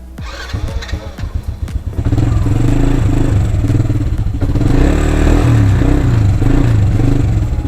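A motorcycle engine idles with clattering, then revs up and settles into a loud, steady running drone close by, as if riding off, with no speech heard.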